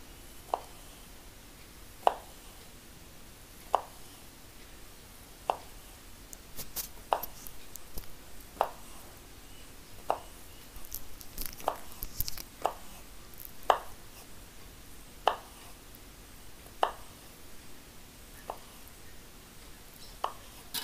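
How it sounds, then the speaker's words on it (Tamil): A knife slices lengthwise through a rolled omelette on a board for omelette rice, giving a dozen or so crisp, evenly spaced chops, close and clear against quiet kitchen background. "இப்படி ரோல் பண்ணிவிட்டு இப்படி நீட்டை வாக்கில் இப்படி வெட்டிக்கணும்."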